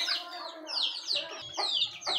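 Native country chickens cluck in short repeated bursts, close and fairly loud, with several birds calling over one another and no talk.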